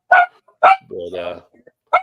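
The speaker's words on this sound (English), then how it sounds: "whose dog is that?" A dog barks in short, sharp bursts close by, with several separate barks spaced through the moment and a stretch of voiced sound between them, heard during an informal group happy-hour call.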